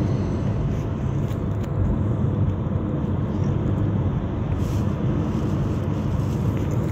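A car accelerates in fifth gear from 90 km/h, a steady broadband engine and road roar heard from inside the cabin, constant in level throughout with no talk.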